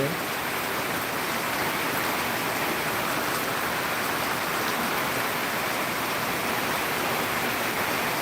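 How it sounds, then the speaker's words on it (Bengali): Heavy rain pours over paddy fields in Bangladesh as a dense, constant roar of falling water, steady and enveloping throughout with no pauses and no voices. "বাংলাদেশের তুমুল বাজে বৃষ্টি হচ্ছে ধান খেত ছোঁয়াই ফেলাইছে বৃষ্টি"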